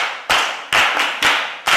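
Four sharp, loud claps ring out one after another in a slow, uneven rhythm, each fading quickly, at a celebration of the Asantehene's twenty years on the Golden Stool.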